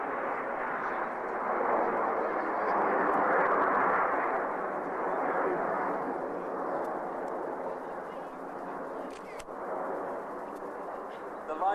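Display aircraft fly in line astern, also called Kelowna formation, giving a continuous broad jet roar that swells and eases over several seconds, with a voice talking over it.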